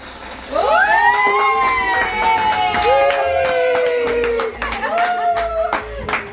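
A group of people claps loudly and continuously at an award celebration, mixed with rising whoops and shouted voices up close.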